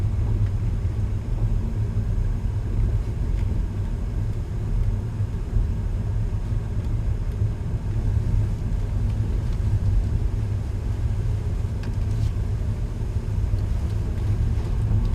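A manual transmission car rolls with the clutch out and comes to a stop, heard from inside as a continuous low engine and road rumble that stays steady throughout.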